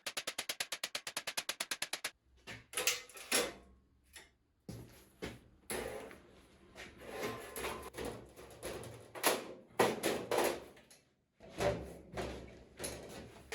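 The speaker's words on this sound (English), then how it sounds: "And hammer the top edge." A hammer strikes the top edge of a sheet metal drawer: a rapid run of sharp, even taps, then irregular heavier clanging blows, all close and without voices.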